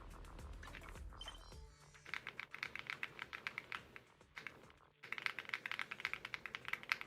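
Typing on a computer keyboard from an Aftershock set, a close, steady run of crisp clicking keystrokes in quick bursts with brief pauses, heard alone.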